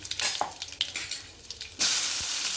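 Lentils, fennel seeds and cumin sizzle in hot oil for a snake gourd stir-fry, the crackling spitting close up and bursting into a louder, denser hiss partway through as more goes into the pan.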